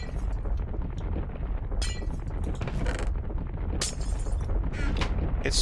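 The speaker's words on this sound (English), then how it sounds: "It's weird that marble makes the glass breaking sound." Blocks of marble mined by a Thaumcraft tunnel miner in modded Minecraft give off repeated glass-shattering crashes over a steady mechanical mining drone. Bursts of bright breaking noise recur every second or so.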